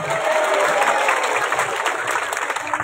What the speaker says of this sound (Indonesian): Tepuk tangan ke ibu.